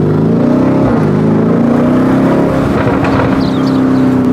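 Lamborghini Urus Performante SUV engine pulls hard, a loud, close, continuous droning roar whose pitch climbs slightly as it accelerates, heard from inside the vehicle with no talk.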